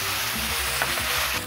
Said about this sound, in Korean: 그리고 어느 정도 익으면 소스를 부어줍니다